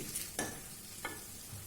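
Carrots and beans frying together in a pan, a soft continuous sizzle broken by two brief scraping stirs, quiet and close with no talking.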